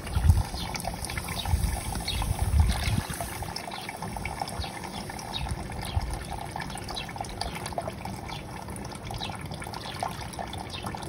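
Water pours and trickles steadily into a 13-frame steam wax melter during beeswax rendering, a continuous close gushing, bubbling wash with a soft splash near the start.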